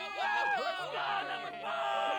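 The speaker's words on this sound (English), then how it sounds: "People erupt into loud cheers," A crowd erupts in loud cheers and whoops in the video game Love and Deepspace, many overlapping yelling voices surging in waves close by.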